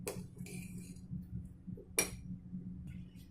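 A spoon stirs sabudana kheer in a metal pot, giving scattered light clinks and scrapes against the pot with one sharper knock near the middle, quiet and close.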